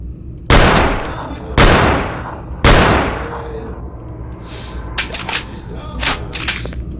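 Sniper rifle gunfire in the EYE video game, heard in a sewer setting: three loud, evenly spaced shots about a second apart, followed by several quicker, fainter bangs and clatter.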